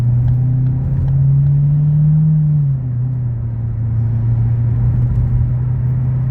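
Ford Focus from the 2012–2018 generation accelerating on a highway: a steady, loud engine drone and road rumble with a rising tone that settles partway through, heard alone with no talk.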